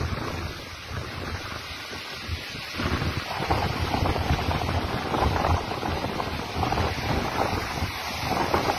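Floodwater rushing through city roads near Hyderabad, a continuous churning wash of water buffeted by heavy wind noise on the microphone, quieter at first and then growing louder and steady.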